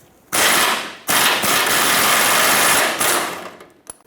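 An 18mm socket wrench loosens the front bolt on a sway bar bushing bracket mounted to the frame of a Ford E-350 Super Duty. Loud, dense mechanical rattling runs in two long bursts separated by a brief gap, then tapers off.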